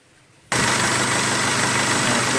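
A Mercedes car engine starts abruptly after a quiet moment and settles into a loud, steady run with its cooling fan roaring continuously, up close.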